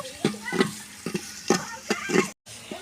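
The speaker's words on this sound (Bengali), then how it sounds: "এখানে কিছু কাঁচামরিচ আর গোটা গরম মশলা একসাথে করে দিয়ে দিলাম দিয়ে এটাকে একটু হালকা করে ভেজে নেব" Green chillies and whole garam masala fry in oil with onions over a clay stove, a gentle sizzle broken by rhythmic scraping stirs at close range, with a short gap near the end.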